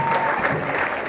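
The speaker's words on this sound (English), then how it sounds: "clap your hands, clap your hands," An audience at a general assembly claps in steady, dense applause that holds loud and even throughout, with a voice faintly present.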